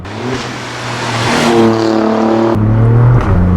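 A 2017 Alfa Romeo Giulia Quadrifoglio engine revs and roars up close, rising in pitch as it accelerates, with a sharp pop from the exhaust partway through.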